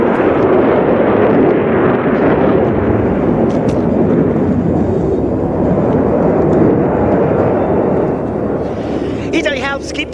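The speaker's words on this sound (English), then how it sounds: "Italy helps keep the skies safe by flying Eurofighter Typhoons to protect countries that have their own air defense" Italian Eurofighter Typhoon jet roaring past at an air show during NATO Days, a loud, continuous broadband engine rumble that fills the scene for its whole length, with crowd and announcer sounds mixed in beneath.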